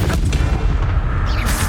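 A Confringo spell blast in the Hogwarts Legacy video game gives a loud, booming explosive rumble that stays heavy and continuous for under two seconds.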